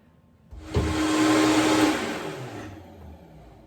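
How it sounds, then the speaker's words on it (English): A blender whirs loudly on cashews in a kitchen, starting abruptly and running for about two seconds at a steady high-pitched roar before winding down and fading, with no talking. "the longer you let it blend, the smoother consistency it is"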